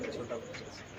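Pigeons coo softly in a loft, low throaty burbles blending with a busy background murmur at close range.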